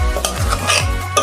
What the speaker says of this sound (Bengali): দেখুন বন্ধুরা আমি ঢাকনাটা খুলছি